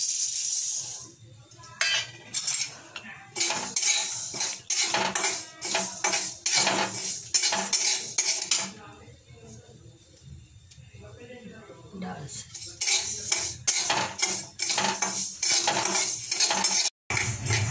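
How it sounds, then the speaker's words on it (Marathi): Urad dal scrapes and rattles in a pan as it is dry-roasted and stirred for chakli flour, the close stirring running in bursts beneath someone talking. "आता आपण उडदाची डाळ भाजून घेऊया।"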